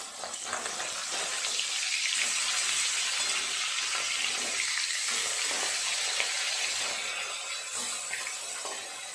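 Fish pieces frying in hot oil in a pan, just flipped over: a steady, bright sizzle with crackling spatter that holds at an even level throughout, close by and with no talking.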